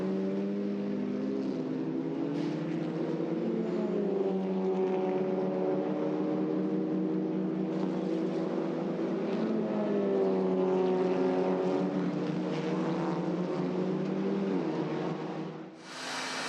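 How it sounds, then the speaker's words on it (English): Blowers pushing cool air into hot Honda Civic TCR race car engines after ten laps at the Shanghai circuit, a steady loud whirring drone with shifting tonal layers throughout, briefly dipping near the end. "The blowers there already blowing cool air into the Honda Civic engines to keep them cool after having worked so hard for 10 laps around the Shanghai circuit."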